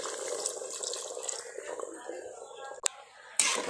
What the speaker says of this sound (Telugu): ఇదిగోండి తగినన్ని నీళ్ళు పోస్తున్నాం కదా